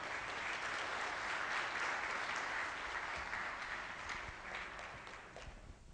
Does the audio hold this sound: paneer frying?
no